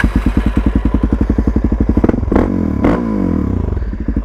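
A 2017 Suzuki DRZ400SM single-cylinder motorcycle on a ride, its engine thumping in a loud, rapid, even pulse. It then revs up and shifts with a couple of surges before settling into a steady drone.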